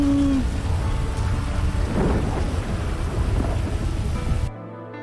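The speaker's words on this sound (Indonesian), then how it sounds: "Weh, kilat tu bising lah weh." Thunder rumbles through steady rain in a GTA game, a loud continuous storm roar with swelling rolls of thunder that cuts off abruptly near the end.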